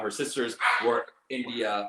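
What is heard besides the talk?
dog barking in the background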